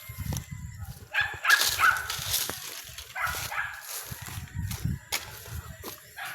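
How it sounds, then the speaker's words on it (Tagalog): Farm dogs kept caged and tied in a rural countryside setting bark in scattered, moderately distant bursts over light outdoor background noise. "Yung mga aso kong nakakulong at nakatali."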